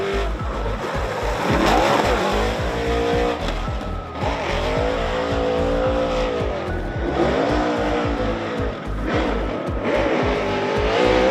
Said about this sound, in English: Matt Field backs it and spins out